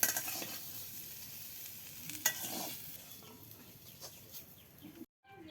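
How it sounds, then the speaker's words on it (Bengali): Chopped onion and green chilli fry in hot oil, a bright, steady sizzle with scraping stirring strokes that fades slightly before cutting off abruptly near the end. "প্রথমে গরম তেলে পেঁয়াজ কুচি কাঁচামরিচ কুচি দিয়ে দিল"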